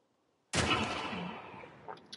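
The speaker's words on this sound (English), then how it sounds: "No, he's shooting at me." A single sharp, loud gunshot from an enemy in a Joel and Ellie video game cracks out of near silence and rings off in a long echoing tail, followed by faint clatter.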